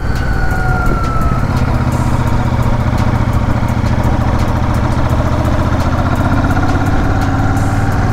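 A Royal Enfield motorcycle runs while being ridden on a hill road in Dagshai, Himachal Pradesh, its thumping engine loud, close and steady for the whole stretch with a constant low rumble.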